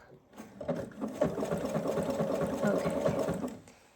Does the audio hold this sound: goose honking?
no